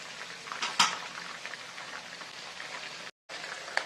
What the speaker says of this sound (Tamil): சிக்கனை வந்து திருப்பி விட்டுக்கலாம்